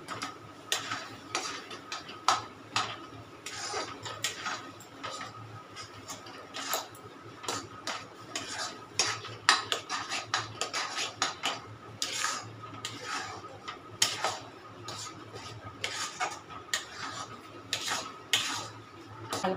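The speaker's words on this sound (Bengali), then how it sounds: "আমি তালটা দিয়ে দিচ্ছি এর মধ্যে। চালটা একটু নাড়াচাড়া করে নিয়ে" A spoon keeps scraping and clinking in a pan as rice and palm pulp are stirred together for a sweet. The dense clatter carries on at a steady rhythm over a low background hum, with no talking.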